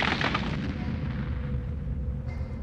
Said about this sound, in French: Ils utilisent des explosifs pour garder le chenal ouvert.